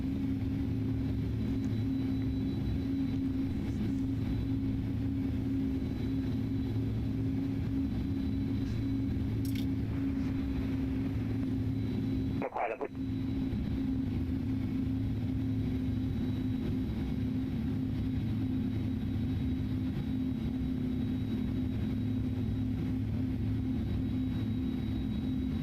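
Steady low jet engine drone of an iniBuilds A310 airliner taxiing at Frankfurt airport in Microsoft Flight Simulator, a continuous even hum throughout with a brief click partway.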